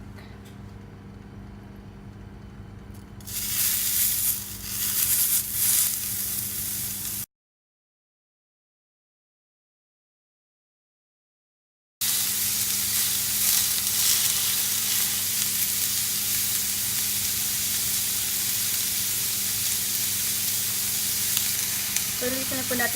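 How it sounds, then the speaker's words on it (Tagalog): Pork on a grill sizzles and crackles in a steady, close hiss, briefly cutting out partway before the frying resumes at an even level. "pigigrill na natin ng pork"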